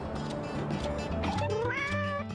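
A kitten meows in a few drawn-out, wavering calls over steady background music, fairly close and clear.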